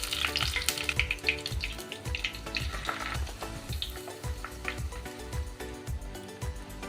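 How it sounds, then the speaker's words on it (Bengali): Stuffed papads frying one by one in well-heated oil make a steady, close sizzle and bubbling, with regular soft knocks and clicks from handling in the pan throughout. "এবার এই পাঁপড়গুলো আমি পুর ভরা পাঁপড়গুলো একে একে ভেজে"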